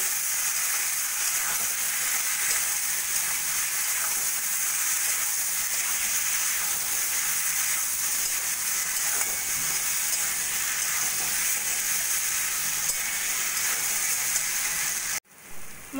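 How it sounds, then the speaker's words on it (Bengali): Spice paste made with ground chilli powder, frying with potato and pointed gourd for a vegetarian paneer curry, giving a steady, close, continuous sizzle and hiss that runs unbroken and cuts off abruptly at the end. "এবার সব কিছু দিয়ে ভালো করে মশলাটা কষিয়ে নেব।"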